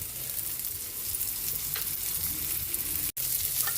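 Onions sauté in a pan with a steady, soft sizzle and crackle, heard alone at a moderate distance, with one very brief dropout near the end.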